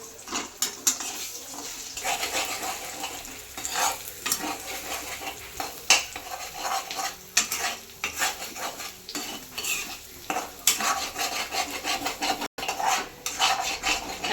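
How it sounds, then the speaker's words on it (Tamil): Egg fried rice being stirred and scraped around a pan, with a spatula rasping and clinking against the metal in steady, irregular strokes up close, along with faint sizzling. "அடி பிடிக்காமல் நல்லா மிக்ஸ் பண்ணி விடணுங்க. அதுக்காக தான் நம்ம இதாக தேய்ச்சிட்ருக்கோம்."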